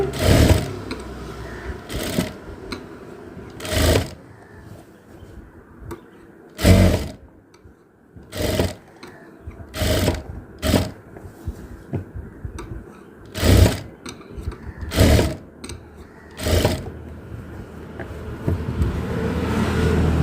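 A sewing machine stitches frills onto nightie fabric in short bursts, each run a rapid mechanical whir lasting about a second, separated by quiet pauses; close and clear, with no speech.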